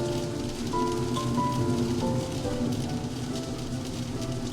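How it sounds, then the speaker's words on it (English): Steady rain falls and patters on surfaces, a soft continuous hiss under faint tonal background music. "The rain is getting louder too."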